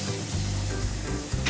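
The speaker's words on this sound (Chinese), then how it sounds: "水开沸腾1分钟" Tea eggs simmering with soy sauce, salt and spices in a pot of water at a rolling boil, a steady close bubbling hiss without any talk.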